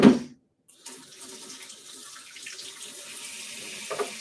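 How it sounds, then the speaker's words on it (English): Tap water runs steadily into a kitchen sink during hand washing, a continuous close splashing hiss after a brief quiet start, with a small clink near the end. "now I gotta wash my hands"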